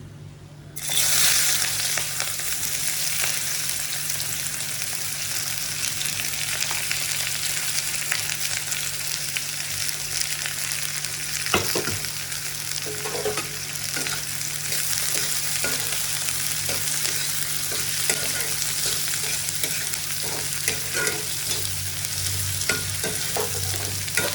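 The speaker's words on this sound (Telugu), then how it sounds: "ఇప్పుడు ఆనియన్స్ వేస్తున్నాను." Onions frying in a pan, a loud continuous close sizzle that begins abruptly and holds for over twenty seconds, broken by occasional stirring clicks and scrapes, no talking.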